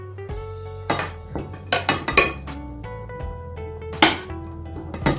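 A utensil clinks and scrapes against a bowl while stirring a Mexican bean salad dressed with olive oil and lemon juice, bright irregular clinks spaced over several seconds with a low hum underneath.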